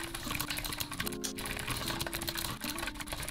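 Rapid clicking of a mechanical keyboard typed fast for a speed test, continuous close keystrokes over a faint tonal background.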